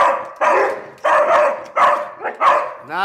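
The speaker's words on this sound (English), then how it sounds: "who you barking at?" A dog indoors at Christmas gives four loud, close barks in quick succession, with a short yip between the last two, and no talk.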